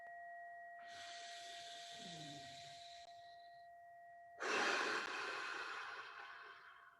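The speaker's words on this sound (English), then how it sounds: "We're going to do the wave breathing." Slow, deep wave breathing into the belly, chest and head, heard as two long, close breathy hisses, one inhale and one stronger exhale, over a faint steady tone.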